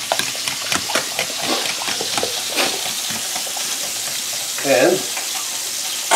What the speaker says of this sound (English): There, now we just stir this up.